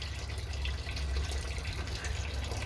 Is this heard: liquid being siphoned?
yes